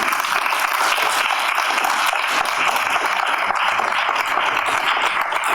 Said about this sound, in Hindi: आपकी तालियों की गूंज बता रही है कि आपको नाटक